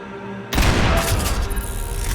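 A sudden, loud barrage of gunfire erupts in Max Payne 3, with dense overlapping shots and booms continuing without pause after a brief quiet start.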